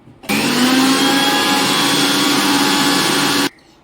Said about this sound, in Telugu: ఇందులో 4 ఇలాచి యాడ్ చేసుకుందాం. ఇప్పుడు గ్రైండ్ చేద్దాం.